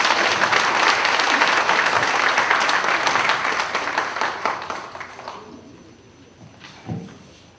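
Audience applause after a church-building cost-saving lecture, a dense sustained clapping that fades over several seconds, with a brief louder burst near the end.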